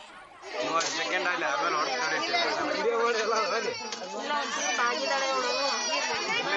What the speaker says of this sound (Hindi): बसें खचाखच भरी हैं। इतनी भीड़ कि कंडक्टरों को टिकट काटने के लिए मशक्कत करनी पड़ रही है।